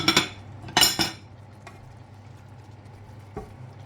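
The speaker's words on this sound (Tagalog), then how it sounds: "Kaya ihalo na natin ang ating cubes na tunaw." A utensil clinks and scrapes against a cooking pot as melted bouillon cubes are stirred into vegetables, with a few sharp metallic knocks early on and then quieter, sparse taps.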